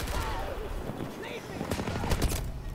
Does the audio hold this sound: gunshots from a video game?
yes